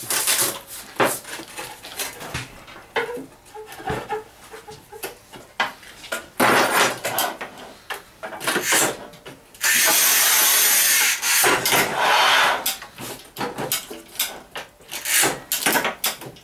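Sigma Serie 4 NEX 4DN manual tile cutter scoring and snapping thick 1.5 cm tile: gritty scraping passes and sharp cracking knocks, with a long loud sustained scrape near the middle, close and without talk.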